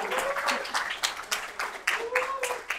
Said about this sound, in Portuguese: Vamos lá, palmas para a Pamela.